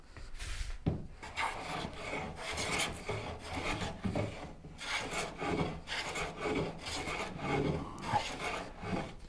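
Hand plane shaving wood for a Shaker Enfield cabinet, a steady run of close, rasping strokes with a loose back-and-forth rhythm, each pass a short scraping hiss, no talking.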